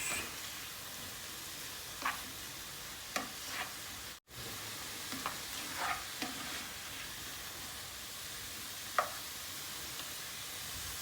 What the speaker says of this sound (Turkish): Gene bir karıştırıyoruz